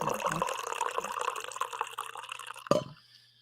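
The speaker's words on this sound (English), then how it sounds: "I think I got one more coffee pour in me." Coffee poured into a cup: a steady liquid trickle and splash running close for about three seconds, ending in a sharp clink before quiet.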